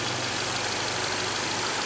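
A Ford Escape car engine runs steadily at idle, a continuous low rumble with a faint knocking texture, close and unbroken with no voices.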